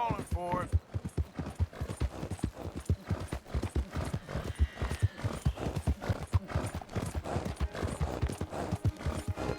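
Horse hooves in the Red Dead video game clop rapidly and continuously in a galloping rhythm, close and prominent, with a brief whinny near the start and talk over the top.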